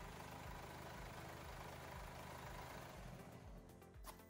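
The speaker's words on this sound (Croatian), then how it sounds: "Auto je sada mogao da se upali, ali je motor i dalje radio nepravilno na 3 cilindra." A Mercedes-Benz B-Class engine idling roughly and unevenly on three cylinders, a loud, steady low rumble with a lumpy pulse that continues throughout without any talking.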